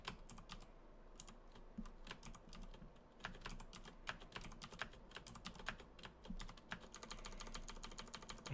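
Rapid, irregular keyboard key presses during a Dungeon Crawl Stone Soup game session, a dense stream of close clicks over a steady low background hum, with no talking.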